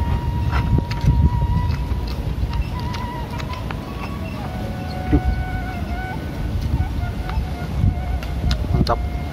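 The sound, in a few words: wind blowing, microphone wind noise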